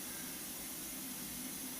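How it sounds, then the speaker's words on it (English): Vacuum cleaner running to supply vacuum for a car's heater flaps, a steady close whooshing hiss with a constant motor drone, heard alone without voices. "this is basically a vacuum cleaner providing us the necessary vacuum to operate the"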